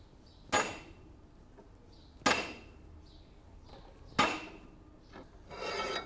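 Three sharp metallic hammer blows ring out at steady intervals on a stuck exhaust manifold bolt, each decaying briefly, followed by a softer scraping rasp at the end.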